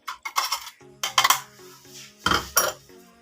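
Ground poppy seeds being added to a pot of coconut kheer, with several sharp metallic clinks and scrapes of a spoon against the pot, in close, separate bursts with no talk.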